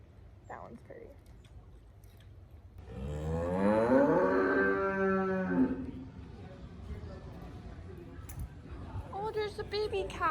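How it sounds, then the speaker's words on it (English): A young calf lets out a long, drawn-out moo close by in a field, rising and falling for a few seconds, while someone talks softly before and after. "there's the baby cows"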